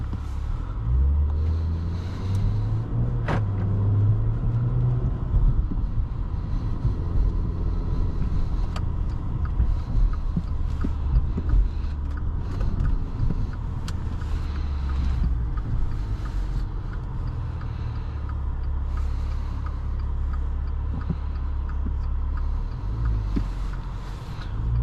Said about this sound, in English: Let's get this Quattroporte out on the road and see how it drives.